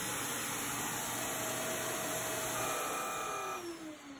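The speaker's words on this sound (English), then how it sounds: "you'll hear the vacuum cleaner running" A vacuum cleaner plugged into a GE remote-controlled outlet drones loudly and steadily, then whines down as it is switched off near the end.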